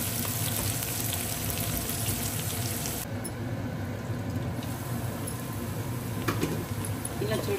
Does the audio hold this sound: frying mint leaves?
yes